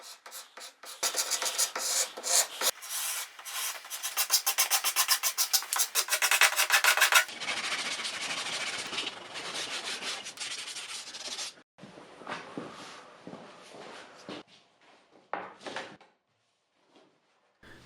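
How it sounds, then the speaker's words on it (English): Sandpaper scraping across the bare wood of an old, slightly warped tabletop: rhythmic back-and-forth rasping strokes, close and clear, first quick and regular, then looser and more uneven before stopping. "start sanding the bare wood"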